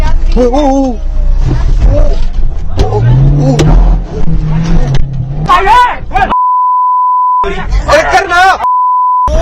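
A car blocks the road at night while a vehicle engine rumbles and a horn gives a long steady beep twice near the end, mixed with loud shouting voices.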